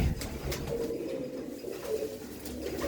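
Fine-feathered pigeons coo softly in a village loft, a low, continuous burbling murmur from several birds close by, with no talk over it.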